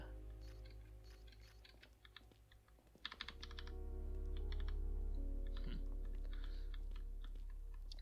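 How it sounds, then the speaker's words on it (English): Rapid, uneven clicks of a mechanical keyboard being typed on, close and fairly loud, in short bursts over a steady low background hum that swells partway through. "Probably able to hear my button presses too, because I have a mechanical keyboard."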